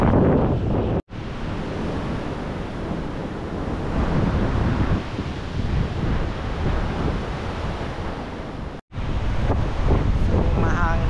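Strong wind roars across a GoPro Hero 12 microphone at a beach in Gubat, Sorsogon, in a continuous heavy rush, with surf churning beneath it and brief dropouts.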